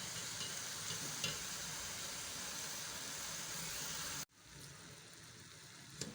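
Grated carrot halwa with ghee stirred in a pan, a continuous close sizzle and scraping that cuts out abruptly, then resumes more faintly with a few light clinks.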